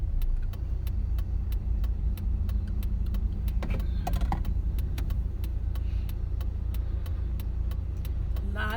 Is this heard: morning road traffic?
yes